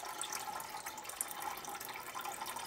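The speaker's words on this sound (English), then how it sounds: "just put your finger up to that spot there, while it's filling up back with water" Water trickles steadily into a coffee maker's reservoir as it refills, a faint, continuous splashing and dripping heard alone without talk.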